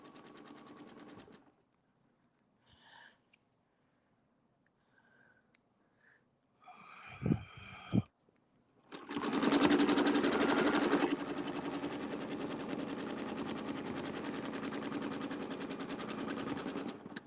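A sewing machine running with a circles attachment, starting with brief bursts, then a long loud steady stitching whir that holds on to the end, no talk over it.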